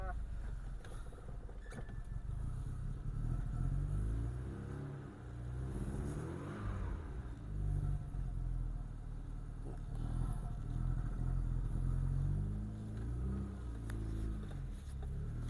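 A VW Golf 2 GTI hatchback engine drones steadily throughout, with low rumbling and brief rises in revs as it drives along, fairly close and continuous.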